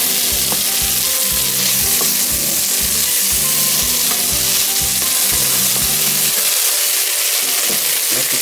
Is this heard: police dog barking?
no